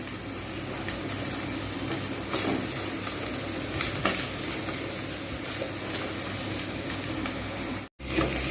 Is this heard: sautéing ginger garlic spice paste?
yes